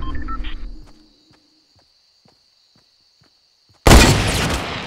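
A sharp, loud gunshot burst from a sniper rifle in a battle royale video game cuts in suddenly near the end, following a quiet stretch with faint ticks and an earlier fading noise.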